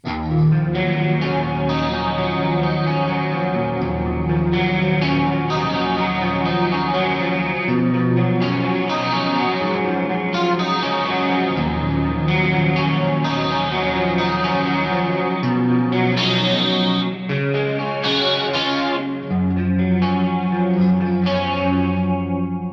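A sustained electric guitar, an EART GW2 headless guitar, plays shimmering 80s-style clean chords and melody, thick with chorus and reverb, loud and continuous throughout.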